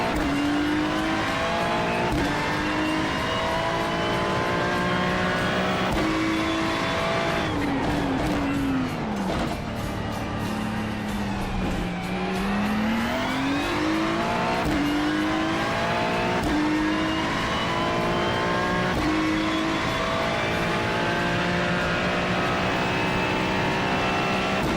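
A race car engine in the iRacing sim howls steadily through the whole stretch, rising and falling in pitch through gear changes, braking and hard throttle, with a dip and climb near the middle.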